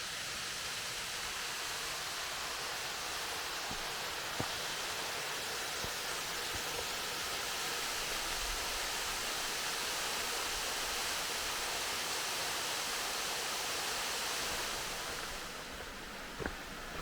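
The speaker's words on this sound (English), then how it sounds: "Here's the brook above the waterfall." Brook water rushes steadily above a waterfall on a wilderness trail in Delaps Cove, a dense, continuous broadband roar heard up close and alone, with a few faint clicks over it and a slight drop in level near the end.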